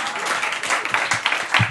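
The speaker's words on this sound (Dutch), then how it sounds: "mag ik misschien nog een applaus alvast op voorhand?" A short burst of audience applause breaks out at a literary festival stage event, brisk and fairly close, with some crowd noise mixed in.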